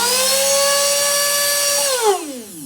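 A juicer grinder motor, freshly cleaned and sprayed with WD-40, runs with a loud, steady high-pitched whine, then its pitch slides down as it begins to spin down near the end.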